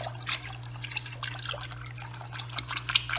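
Dechlorinator being stirred into aquarium water for a Fluval Spec tank setup, with soft sloshing, trickling and dripping close by over a steady low hum.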